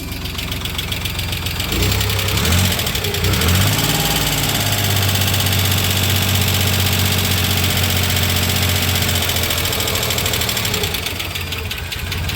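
A 1993 Dodge Caravan's Chrysler 3.0 V6 engine starts and settles into a steady, rhythmic idle, a continuous low throbbing hum that holds evenly for several seconds.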